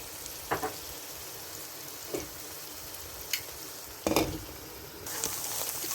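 Sliced onions with salt frying in a pan until browning, a soft continuous sizzle with a few sharper crackles and spoon taps scattered across it.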